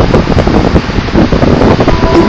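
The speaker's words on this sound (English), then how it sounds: "The wind's like 30 miles an hour." Strong ground wind of about 30 miles an hour at an outdoor music festival, buffeting the microphone in a loud, continuous roar with gusty fluctuations.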